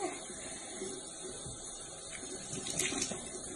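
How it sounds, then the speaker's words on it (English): Tap water runs steadily into a sink during face washing, a soft continuous splash and hiss that swells slightly near the end, with no talking. "And I wash my face."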